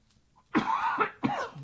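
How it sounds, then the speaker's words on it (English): Two harsh, close coughs from one person, the second following shortly after the first, with quiet before them. "And I'm coughing."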